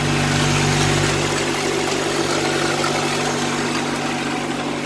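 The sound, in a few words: Honda Integra engine idling with noisy aftermarket distributor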